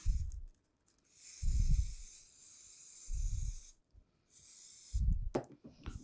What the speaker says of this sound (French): on prend une pomme de pin qu'on va venir bomber de colle sur l'envers